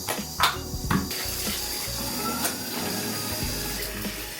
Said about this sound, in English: Scrubbing in like a doctor.